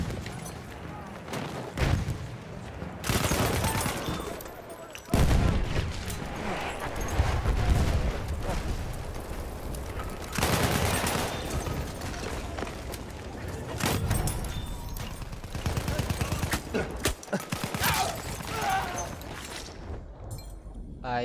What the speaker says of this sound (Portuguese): Metralhadora! Uma das deles!